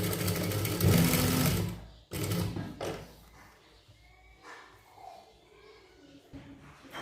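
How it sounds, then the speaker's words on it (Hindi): Sewing machine stitching elastic onto a folded girl's frock, a loud close whirring run for about two seconds, then a brief restart and softer handling sounds with faint background noise. "यहाँ पे सिलाई लगा दूंगी"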